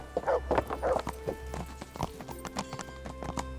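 Horse hooves clip-clop on hard ground in the video game Kingdom Come: Deliverance, a brisk uneven run of close, clear strikes with a brief neigh near the start.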